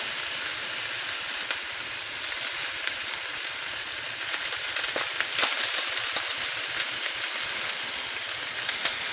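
Sand lance fish sizzling in a frying pan, a dense, even crackle and hiss that carries on without pause, with a few sharper pops scattered through.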